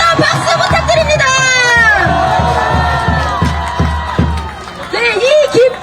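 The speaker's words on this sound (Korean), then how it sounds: "한 번 더 박수 부탁드립니다!" A crowd at a university student rally cheers and shouts, with rhythmic clapping pulses under loud voices and a speaker calling out over a public address system, dense and close throughout.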